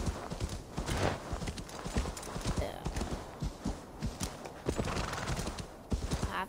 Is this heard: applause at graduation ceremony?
no